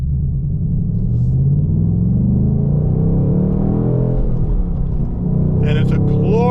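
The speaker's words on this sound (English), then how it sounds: "Check out these downshifts." A 2025 Ford Mustang Dark Horse V8 gives a deep engine rumble that swells and falls as revs rise and drop in rev-matched downshifts, loud and close, with a brief higher blip near the end.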